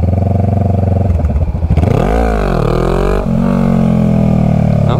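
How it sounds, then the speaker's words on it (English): A Honda Rebel 500 motorcycle engine revs hard during a wheelie, a loud close steady drone that dips and swoops in pitch as the throttle is worked, then holds at a high sustained note. "I need to stay on the throttle nice and steady and use the rear brake if I need to bring it down"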